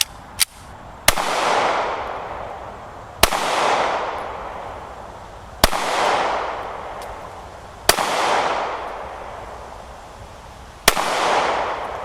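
Single gunshots from a 3.6-inch handgun fired at a target, six or so sharp loud cracks spaced a couple of seconds apart, each followed by a long echoing outdoor rolloff, no talking.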